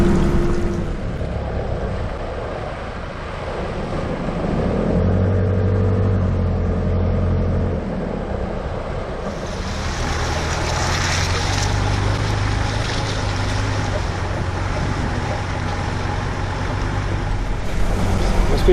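A four-wheel-drive vehicle's engine drones and revs while it drives through mud on a Cape tour, with a steady rumble rising and falling and splashy, gritty noise from the tyres, a voice talking now and then.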